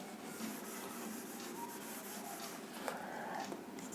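Writing is rubbed out on a board during a physics lecture, a soft continuous scrubbing and swishing close by, fairly quiet and steady, with no speech.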